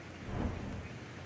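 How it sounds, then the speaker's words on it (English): Heavy rain pours steadily during a flood in Pagosa Springs, Colorado, a dense hiss of falling water with a low rumble underneath, brief and fairly faint, with no talking. "the rain just keeps coming"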